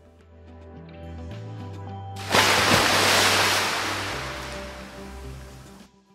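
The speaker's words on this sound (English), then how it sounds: "The Waturi Beach. This is a sparkling, multi-directional wave pool" Waves surge at Waturi Beach, a multi-directional wave pool at Volcano Bay in Orlando, with a broad rushing wash of water rising suddenly, holding for a few seconds and then fading over a low background hum.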